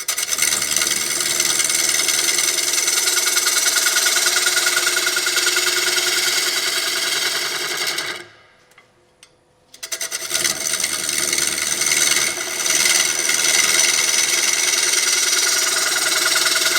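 Lathe gouge cutting a wooden platter with slight chatter: a steady, loud rasping scrape over an even motor hum, cut off for about two seconds mid-clip before resuming.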